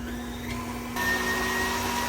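A steady KitchenAid stand mixer motor hum with a constant tone, running after repair, close by, shifting slightly in pitch and getting a bit louder partway through.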